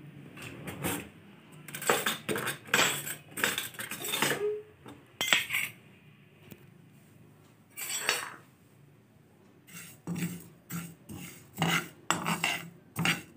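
Green chillies and spices dry-roasting in a pan for a chilli pickle, heard as bursts of metallic scraping and clinking as a spoon stirs against the pan, separated by short quiet gaps.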